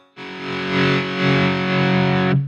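Electric guitar played through a modified Marshall JCM800 amp, a single sustained distorted chord ringing loud and thick for about two seconds before cutting off abruptly.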